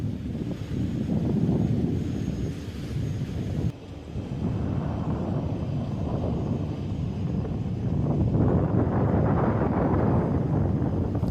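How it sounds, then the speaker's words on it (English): Strong wind roars steadily across the open deck of a Brittany Ferries crossing out of Portsmouth, a continuous loud buffeting rush with no talking. "It's certainly windy out here."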